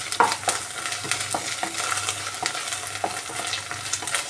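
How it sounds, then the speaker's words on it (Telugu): Onions, green chillies and ginger paste frying in a pan for semiya upma, a steady close sizzle punctuated by the scrape and clack of a spoon stirring. "1/2 టీ స్పూన్ అల్లం పేస్ట్ వేసుకొని బాగా ఫ్రై చేయండి"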